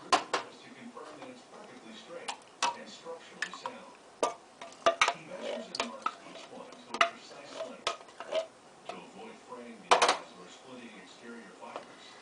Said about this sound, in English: so just mix that all up together, your vegetables